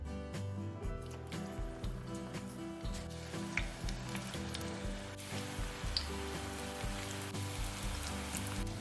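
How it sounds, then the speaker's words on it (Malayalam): Capsicum rings dipped in batter frying as bajji in hot oil, a dense, continuous crackling sizzle like light rain that holds steady throughout at close range. "ഇതും മാവിൽ മുക്കി പൊരിച്ചെടുക്കാം."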